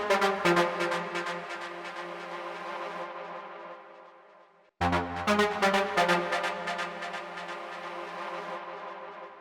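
Techno ambience built from echoed, resampled and reversed sound with delay and sidechain compression, a dense harmonic wash that swells, fades into a brief gap near the middle, then surges back loud and full.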